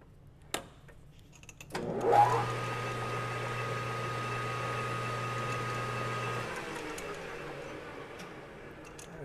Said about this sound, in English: Put a little chamfer on that while we got a chance.